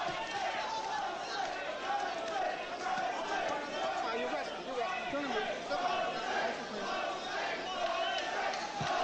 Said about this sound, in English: Crowd taking up a chant of Jose.